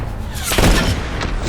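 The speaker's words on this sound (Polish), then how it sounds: "Pierwszy strzał nie trafiony." A sniper rifle shot from a video game plays back in slow motion as one drawn-out, loud, booming blast with a long rumbling tail, heard alone without talk.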